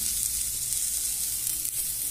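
Onion and garlic dropped into a hot pan where orzo-style bird's tongue pasta is browning, producing a loud, steady, close sizzle with a slight shift as the ingredients hit the oil.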